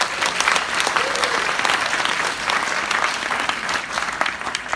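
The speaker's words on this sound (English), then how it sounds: "Give yourself a big round of applause." A large audience at a conference opening event applauds steadily, a dense, even wash of many hands clapping at close range that holds at a constant loudness for the whole stretch.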